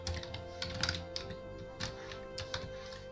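Quiet, steady keystrokes on a computer keyboard while Python turtle code is typed, a run of close, light taps with occasional louder clicks and no talking.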